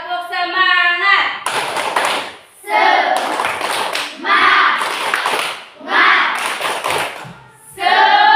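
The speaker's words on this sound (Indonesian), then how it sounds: "Tepuk semangat." Children doing a rhythmic spirit clap in a classroom, bursts of patterned hand claps and taps mixed with chanting voices, loud and close.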